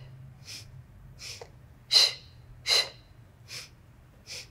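Sharp nasal breaths in and out during an intermediate Pilates workout, six short puffs in a steady rhythm, two of them noticeably stronger, close to the microphone.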